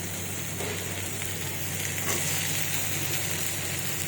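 Steady close sizzling of fried potatoes in hot spiced oil for a katla fish curry, a continuous crackling hiss with faint stirring scrapes, no voices.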